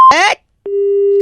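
A phone line's steady disconnect tone sounds right after a call is cut, a single clear held pitch that follows a brief voice and a short silence.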